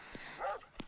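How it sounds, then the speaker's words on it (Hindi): A dog barks in short bursts, with a couple of brief yips and a louder bark close together over under a second, set against faint background voices. "टाइगर इतना क्यों भौंक रहा है?"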